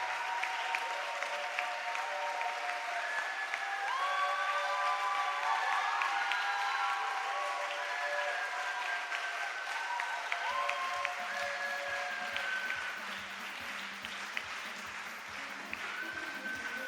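A church congregation applauds steadily through a Sunday service, a dense, even wash of clapping that fades slightly toward the end, with faint tonal voices or music running beneath it.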